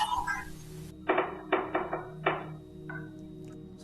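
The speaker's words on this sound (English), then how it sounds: "Sounds like somebody knocking on the door." A series of knocks on a door, about five dull, hollow raps in a loose, uneven rhythm, moderately near, within a quiet indoor space at a historic bawn, with a brief voice just before.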